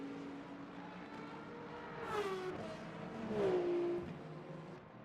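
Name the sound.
BMW race car engine in Le Mans Ultimate sim racing game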